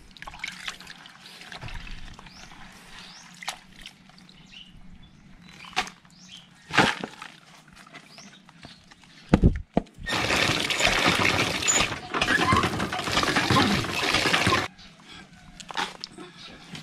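Water running and splashing as freshly caught grasshoppers are rinsed in a basin, the water changed several times; a loud burst of pouring and trickling dominates the middle, with quieter handling and faint speech around it.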